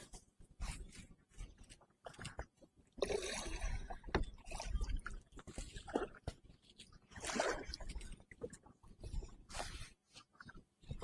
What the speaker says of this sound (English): Going on the paddle.